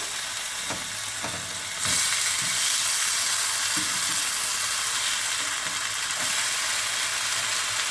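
Rava (semolina) uttapam cooks on a pan over a medium gas flame, giving a loud, steady close sizzle that surges after a few soft knocks and a scrape, then continues evenly.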